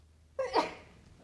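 A single short sneeze from someone at a Board of Education meeting, a quick sharp burst after quiet room tone, heard at moderate distance.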